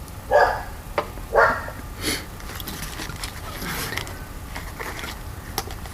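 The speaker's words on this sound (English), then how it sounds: "excuse the neighbour's dog" A neighbour's dog barks in a backyard, two or three sharp, fairly close barks early on, then quieter sounds and a steady background, with no talking.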